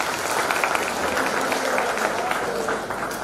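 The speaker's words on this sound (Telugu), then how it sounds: "ఒకసారి చప్పట్లతో అవును అనిపించండి" An audience claps through a book launch hall, a dense, steady wash of many hands held at even loudness for a few seconds.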